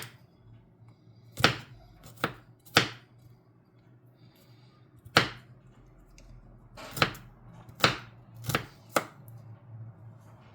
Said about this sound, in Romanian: Mai tocăm și usturoiul. Nu foarte mărunt.